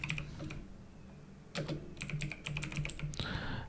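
Quick bursts of typing on a computer keyboard entering a search in Windows 11, close and clear with short pauses between clusters of keystrokes, no voices.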